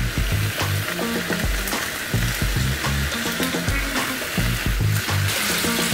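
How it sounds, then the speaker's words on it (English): Chorizo sausage and vegetables, onions among them, frying in a pan for paella, giving a steady loud sizzle broken by repeated scraping and stirring knocks. "I'm just gonna cook these until the onions are kind of close to being browned"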